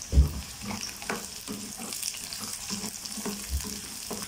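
Garlic and shallots frying in oil in a pan for a kulambu, a close steady sizzle with soft stirring scrapes and a couple of thumps, no talk.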